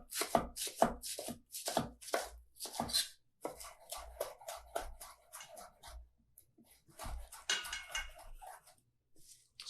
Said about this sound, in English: Here I've got, I've got basil, thyme, oregano, chives, and just going to take a nice little thin slice of these